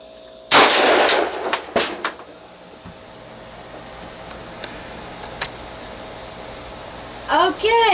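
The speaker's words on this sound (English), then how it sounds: "I'm about to put a 12 gauge slug in that pan" Saiga 12 shotgun fires a single 12 gauge slug into a pan indoors: one sharp, loud blast with a reverberant tail, followed by quieter room noise and a few small knocks.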